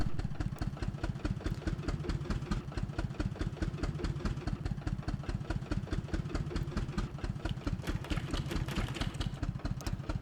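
A farm tractor engine idles in a steady, throbbing putter with even, rapid pulses, held at a constant mid-level loudness, close by and alone, with no voices.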